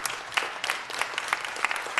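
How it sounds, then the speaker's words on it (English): Scattered clapping from a small group at a city council meeting, uneven and moderately loud, lasting the whole moment. "So big round of applause to Stephanie."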